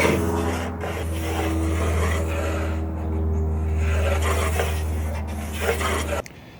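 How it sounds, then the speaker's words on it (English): An oscillating multi-tool cuts through an oak steering wheel for a small electric wooden boat, giving a steady buzzing, rasping drone that runs continuously at close range and stops abruptly near the end. "simply just to use my oscillating tool, which you'll see any second"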